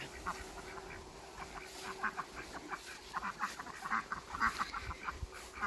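Newly arrived farm ducks quack repeatedly outdoors in short, overlapping bursts at moderate distance, over a low background hiss.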